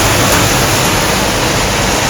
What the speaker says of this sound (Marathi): धबधबा ना, धबधबे बघा, धबधबे 1 2 3 4 5 आणि तिकडं 6.